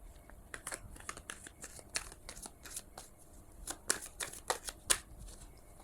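Tarot cards being shuffled by hand in quick riffling bursts, a run of crisp, close papery flutters and snaps repeating irregularly throughout, with no talking.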